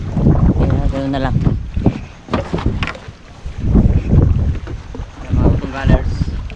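Strong gusting wind buffets the microphone out on the water beside a small bamboo-outrigger fishing boat, a loud, uneven roar with heavy low rumble, and voices talking faintly underneath.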